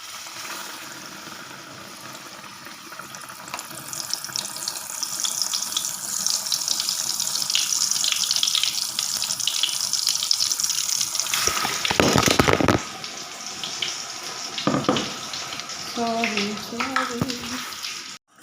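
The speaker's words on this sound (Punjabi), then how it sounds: "ਇੱਧਰ ਸਾਡਾ ਆਇਲ ਗਰਮ ਹੋ ਚੁੱਕਾ ਹੈ ਤਾਂ ਹੁਣ ਆਪਾਂ ਇਹਦੇ ਵਿੱਚ ਪਾਵਾਂਗੇ ਬ੍ਰੈਡ ਪਕੌੜੇ" Bread pakoras coated in gram flour batter sizzle and bubble in hot oil, a steady close frying hiss broken by a few louder clatters and brief handling noises toward the end.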